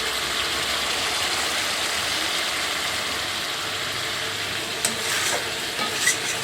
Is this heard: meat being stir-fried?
yes